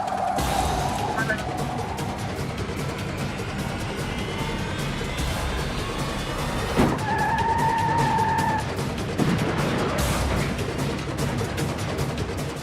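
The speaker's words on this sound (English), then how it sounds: "Make contact with vehicle, spun vehicle out. Vehicle went into the ditch." A police pursuit in which a cruiser performs a pit maneuver on a fleeing car, spinning it into a ditch; engines roar under radio chatter and talk, with tire squeals and a sharp impact partway through.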